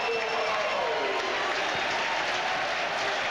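A football crowd at a UEFA Cup match between Shelbourne and Glasgow Rangers roars and applauds in a dense, continuous wall of noise as fans spill onto the field.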